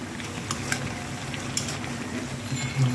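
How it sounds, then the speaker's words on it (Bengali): Biryani masala being stirred into meat in a pan, with a steady soft sizzle of frying and faint scraping strokes running under continuous low kitchen noise, no talking. "রাঁধুনি বিরিয়ানি মশলা দেওয়ার পর আমরা এখন মশলাটাকে ভালো করে মিক্সড করে দেবো"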